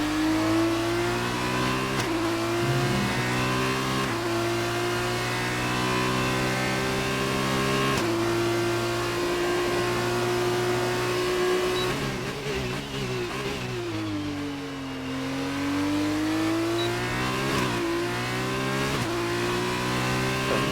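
Formula 2 race car engine screaming on an onboard qualifying lap at the Hungary circuit, a loud continuous high-revving whine that drops on each upshift, dips briefly for braking, then climbs again.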